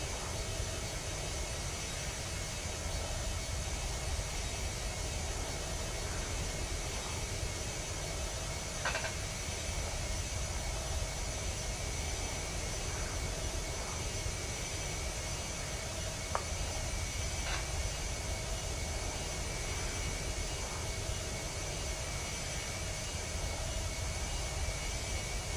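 Cockpit drone of a Beriev A-50 aircraft landing in the Roblox flight game Aeronautica, a steady, continuous engine hum and airflow rush with a few faint clicks and blips, with no talking.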